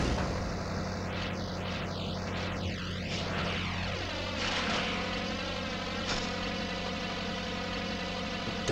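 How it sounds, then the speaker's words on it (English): A runaway propeller plane in the Spider-Man 2 video game drones loudly with engine hum and sweeping, swooping whines that dive in pitch before settling into a steady roar. "That plane's out of control."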